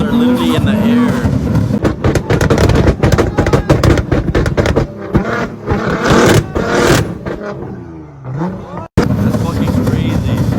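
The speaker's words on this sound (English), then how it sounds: "GTR's been shooting flames for like a minute non-stop" A Nissan GT-R at a car meet roars loudly, its exhaust crackling and popping as it shoots flames, with bursts of engine noise, a brief drop and an abrupt cutoff, while people talk nearby.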